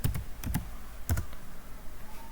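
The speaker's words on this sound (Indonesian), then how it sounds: "kita langsung aja ketik sudo su" A few quick keystrokes on a computer keyboard while a Linux command is entered, close crisp clicks in short clusters that then fall silent.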